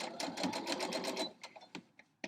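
Sewing machine running steadily while stitching quilt star block pieces together, close and fairly loud for over a second, then stopping with a few short, separate needle bursts.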